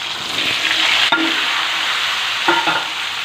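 Eggplant pieces fry in oil with a steady, close sizzle, broken by a couple of brief stirring scrapes partway through; no one speaks.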